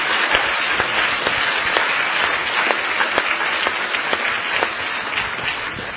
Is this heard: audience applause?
yes